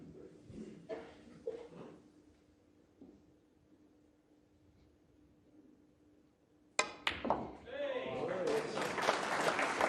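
A snooker crowd at the 2023 World Championship first round, Mark Williams versus Jimmy Robertson, bursts into loud sustained applause for a break after a quiet stretch of faint commentary and ball clicks.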